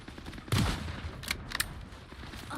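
Punisher's turret fires in the Marvel Rivals video game in a few sharp bursts, with one heavy blast followed by shorter rattling volleys set against faint game ambience.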